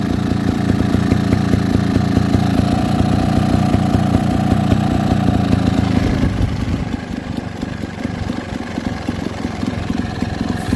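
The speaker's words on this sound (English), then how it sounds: "Okay, so I've now got the bike running." Beta Evo trials motorcycle engine idling close by, a loud steady putter with rapid regular firing pulses, shifting to a slightly lower, smoother tone partway through, with no talking.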